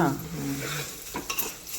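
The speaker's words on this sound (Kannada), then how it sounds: "ಒಗ್ಗರಣೆ ಹಾಕ್ಬಿಟ್ಟು ಅಕ್ಕಿ ಹಾಕಿ ಹುರಿಬೇಕು" Rice sizzles in a hot pan of tempering with garlic, mustard seeds and cumin while a spoon scrapes and stirs through them, a few clinks of metal near the end.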